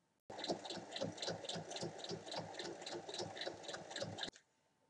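A sewing machine stitches a seam along the handles of an oval-bottomed drawstring bag, running steadily for about four seconds with a fast rhythmic needle beat, close and even, then stopping abruptly. No one speaks.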